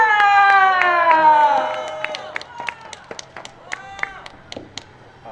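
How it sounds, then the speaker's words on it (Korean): At a Korean rally calling for fair election rulings, a sustained shout or cheer opens, then gives way to sparse, separate claps from the crowd, close and irregular. "박수 한번 주세요"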